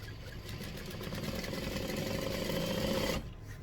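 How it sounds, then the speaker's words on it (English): A sewing machine runs steadily while stitching binding strips onto a quilt, a continuous close mechanical whir that stops abruptly near the end. "just sew very carefully, making sure not to stretch the strips"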